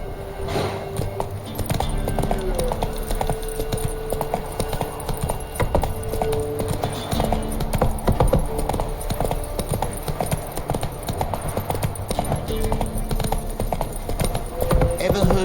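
Horse hooves from The Witcher 3 clip-clop in a steady galloping rhythm throughout, loud and close, with occasional snorts and a voice speaking over the hoofbeats amid game background sound.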